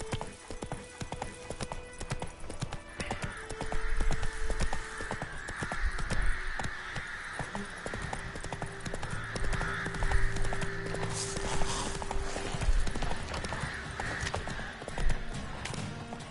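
Roach, the horse in The Witcher 3, gallops with steady rhythmic clip-clop hoofbeats over a game soundscape of crows cawing and an occasional whinny.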